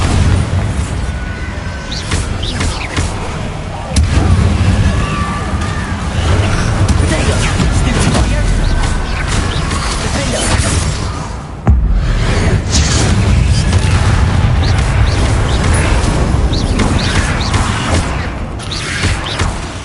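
Loud, continuous Bombarda explosion spell booms in Hogwarts Legacy, with repeated heavy blasts over dense game effects and music throughout.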